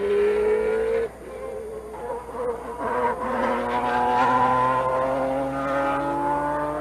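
A Formula One race car engine at Interlagos wails near and loud, its high pitch rising steadily through the gears after a brief drop during a Brazilian Grand Prix with Ayrton Senna.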